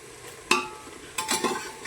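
Cooked mutton stirred into a pot for biryani: a couple of brief scraping, clattering stirs against the pot with soft cooking noise between them, close and without talk.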